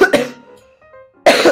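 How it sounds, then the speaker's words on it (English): Two sharp, close coughs, one at the start and one at the end, separated by a short quiet gap with a faint background murmur. "sorry about that cough"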